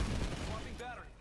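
Gunfire in the video game Planetside 2, a dense rattling burst of shots filling most of the short moment before tapering, with a voice talking over it.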